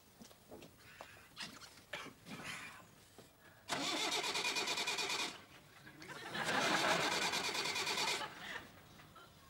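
A tractor engine cranks and catches in two loud, sputtering bursts, with quieter clatter and knocking before them.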